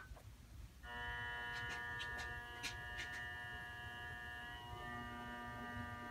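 A Grizzly milling machine motor switches on after a second of quiet, settling into a steady, even electric hum and whine that runs unbroken, with a few faint clicks over it.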